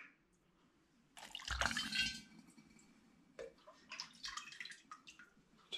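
Cooled beer wort for a Belgian honey ale is poured through a sieve into a glass demijohn, giving faint, close splashing and trickling in two bursts separated by a quiet pause.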